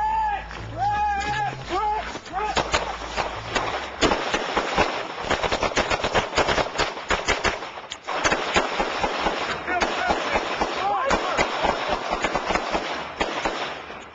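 Rapid crackling gunshots in a drug war setting, dense sharp bangs that run almost continuously at close range over steady background noise, with a voice audible underneath.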